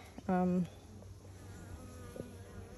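A single honey bee buzzes loudly right up close for a split second, then fades into faint, quiet background hum, at a beehive.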